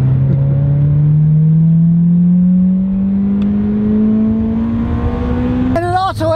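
A Toyota Corolla engine revs up steadily with a raspy, droning exhaust, pitch climbing slowly before a brief burst of noise at the end.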